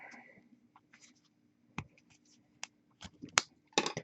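A paper clip scrapes and clicks inside the clogged nozzle of an airbrush, a few quiet, sharp scratches and taps spread irregularly over a low hum.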